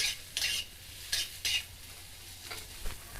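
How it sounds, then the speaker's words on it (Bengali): Onions sautéing in a pan, with several sharp scraping bursts from stirring over a soft, steady sizzle, close and fairly quiet with no talk. "দিয়ে পেঁয়াজটাকে আমি একটু কষিয়ে নিচ্ছি"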